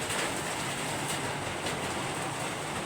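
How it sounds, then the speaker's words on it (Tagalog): Heavy rain pounds on a house roof at night in Dasmariñas, a dense, even roar of drops with no pauses and no voices. "naririnig niyo yung patak ng ulan sa bubungan namin guys"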